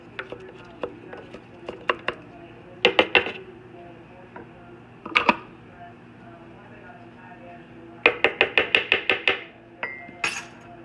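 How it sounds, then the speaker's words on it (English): Wooden spoon stirring basil pesto in a bowl, giving sharp clicks and knocks in scattered bursts, including a quick rhythmic run of taps, with a steady low hum underneath. "So I'm just going to use a wooden spoon."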